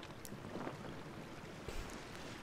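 A boat glides across water in the video game Assassin's Creed Origins, giving a faint, soft wash of splashing and airy rush with a couple of slightly louder swells.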